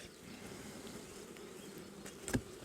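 Honey bees buzzing at an opened hive on a cool mid-May day, a steady moderate drone filling the clip, with a single louder bee passing close near the end.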